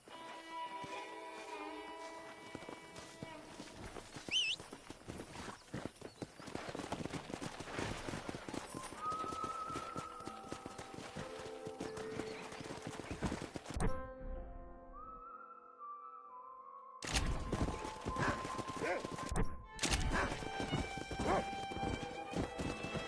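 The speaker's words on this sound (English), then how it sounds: "Let's see if we can't wrangle some horses." Horses in the video game Red Dead Redemption clip-clop along at a steady gait, with occasional whinnies and game music and effects mixed in, fairly quiet overall.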